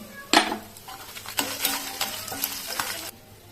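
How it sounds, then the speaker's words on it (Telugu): Cumin, fenugreek and dried red chillies roast in a pan for a pickle, a spoon stirring with light scrapes and rattles over a faint, dry sizzle. "ఇలా ఒక్కొక్కటి వేయించుకోవాలి. ఇంకా జీలకర్ర, మెంతులు కూడా వేసేసుకుందాం."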